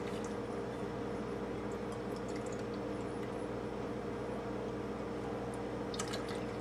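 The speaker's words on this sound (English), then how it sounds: "I need 2 3/4 cups of milk." Milk being poured into a measuring cup for chocolate pudding, a steady liquid splash and fill sound that runs continuously and close throughout, with no talking.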